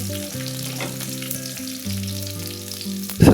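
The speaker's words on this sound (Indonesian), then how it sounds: "Tumis secara bersamaan cabai kering, bawang putih, jahe, dan juga daun bawang" Dried chili, garlic, ginger and scallion sautéing together in a pan for kung pao chicken, a brisk, close sizzle beneath steady background music, ending in a louder burst of frying.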